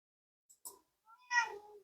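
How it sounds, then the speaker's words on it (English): A house cat meows indoors: a few soft, short chirps come first, then one louder, drawn-out meow that trails off, all close and alone with no talk. "Did you see a cat outside?"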